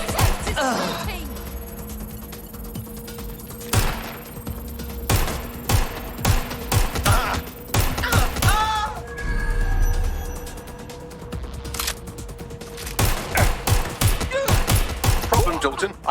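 Video game gunfire: rapid bursts of close, loud shots crack in clusters throughout, interleaved with heavy thuds and impacts, amid a busy combat soundscape with a voice shouting at times.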